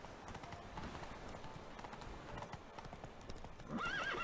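Hooves of a horse clip-clop steadily at a gallop in The Witcher 3: Wild Hunt, a quiet, even rhythm that ends in a brief whinny.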